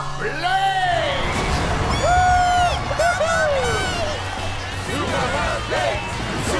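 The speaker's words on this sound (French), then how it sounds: "Applaudissez bien fort le sous-marin" A cartoon crowd cheers and whoops for Blaze the submarine, with loud rising and falling shouts and cheers layered over continuous crowd noise and busy background sound throughout.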